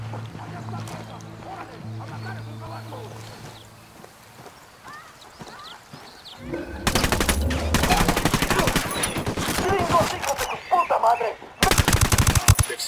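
Bursts of rapid automatic gunfire in the Ghost Recon Wildlands shooter, loud and clattering, with dense volleys starting midway and returning after a brief pause. Speech and low game ambience come before them.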